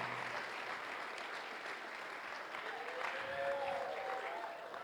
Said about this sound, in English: So, everybody clap your hands.